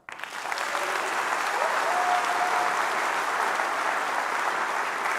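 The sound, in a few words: faculty audience clapping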